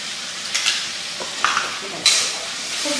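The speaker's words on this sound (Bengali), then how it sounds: "ভালো করে সবটাকে ভেজে নেব, যতক্ষণ না পর্যন্ত মশলার একটা কাঁচাটে গন্ধ সেটা চলে যায়" Spice paste for mutton curry frying in a pan gives a steady soft sizzle, broken by a few louder hissing spurts and stirring scrapes, heard close up with no talking.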